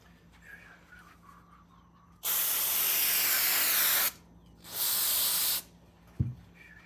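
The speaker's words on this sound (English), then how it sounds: "gray wires that come on the British bike switch assemblies can be cleaned to look like new with a little bit of CRC carb cleaner" CRC carb cleaner sprayed from an aerosol can onto gray switch wires from a British motorcycle: two loud, close hissing bursts, the first about two seconds long and the second a little shorter, followed by a small clunk.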